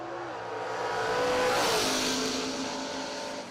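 Drag race cars including a Mustang launching down the strip, a loud engine roar that swells and peaks mid-way then fades slightly, heard alone from a distance.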